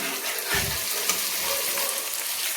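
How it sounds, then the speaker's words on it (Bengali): Spices and tomato paste fry in oil in a pan while a mustard tilapia curry is being cooked. A close, steady sizzle continues throughout, with a brief low thump near the start and no talking. "তার জন্য আমি দু তিন মিনিট এইভাবে কষিয়ে নিচ্ছি তেলের সঙ্গে কষিয়ে নিচ্ছি"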